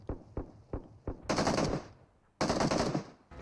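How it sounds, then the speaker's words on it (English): Gunfire during a competitive video game match: several evenly spaced single shots followed by two long, loud bursts of automatic fire at close range. "Oh, those were the gunshots."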